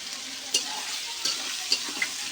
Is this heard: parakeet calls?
no